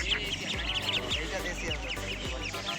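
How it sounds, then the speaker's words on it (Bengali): Campbell ducks quack at a bird seller's stall in Kolkata, with repeated short, nasal quacks in a busy, noisy setting and people talking around them. "হাঁসের বাচ্চা দেখো ক্যাম্বেল হাঁস দেখো এর নাম হচ্ছে ক্যাম্বেল হাঁস"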